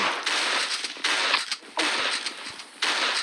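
Sniper rifle fire in the Pixel Gun 3D shooter game, several loud bursts of broad crackling blasts spaced about a second apart, each sustained briefly before cutting off.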